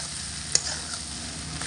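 Taro flower stalks fry in a pan over medium-low heat with a soft steady sizzle, broken by one sharp scrape of a spatula as they are gently stirred.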